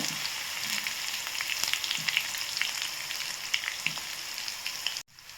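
Ginger and curry leaves frying in hot oil along with cumin, a dense steady crackling sizzle close by with scattered pops, cutting off abruptly just before the end.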